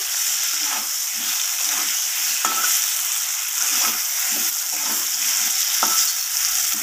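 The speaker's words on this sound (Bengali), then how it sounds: "পটলগুলোকে আমি লালচে করে ভেজে নেব" Pointed gourd pieces fry in a pan with salt and turmeric, giving a steady close sizzle broken by regular scraping stirs, with no talking.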